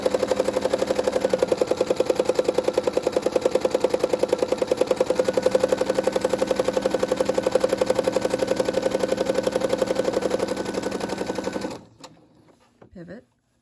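A Brother SE600 sewing machine stitches along a line in a steady, fast mechanical chatter, close and fairly loud, running continuously for about twelve seconds before stopping abruptly, followed by a brief faint rustle.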